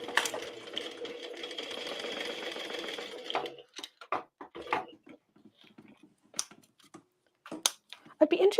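A home sewing machine fitted with a narrow hinge zipper foot runs steadily at close range for about three seconds and then stops, leaving scattered clicks and handling sounds.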